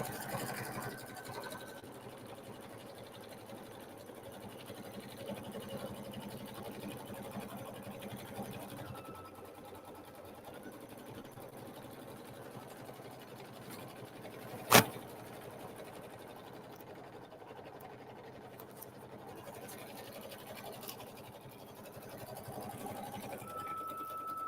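A sewing machine stitches out a quilt block with a continuous low motor whir and rapid needle chatter, steady for over twenty seconds with one sharp click midway.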